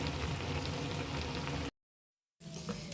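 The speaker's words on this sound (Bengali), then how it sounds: "পেঁয়াজটা ভাজি ভাজি করলাম, পেঁয়াজটা বাগার দেবো, কচুর মধ্যে দেব।" Sliced onions sizzle and crackle in hot oil, being fried to temper boiled taro. The steady close frying hiss cuts out briefly to silence, then resumes.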